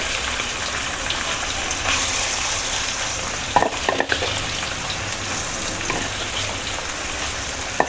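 Steady, even sizzle of marinated kidney frying in a hot pan, with a couple of brief clinks and stirring sounds partway through.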